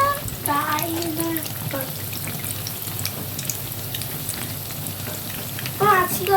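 Beguni, eggplant fritters in gram flour batter, frying in hot oil give off a steady crackling sizzle throughout, with a brief voice at the start and again near the end.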